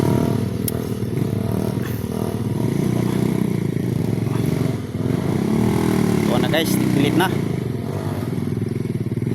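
A motorcycle engine drones steadily throughout, loud and close, with a voice speaking briefly over it and some clattering.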